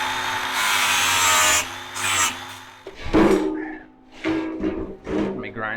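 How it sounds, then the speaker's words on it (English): An angle grinder works down a steel tab on a welded firewood bundler frame, running in loud bursts that rise, cut out and restart several times, with brief pauses between passes. "I'm going to finish grinding this one down"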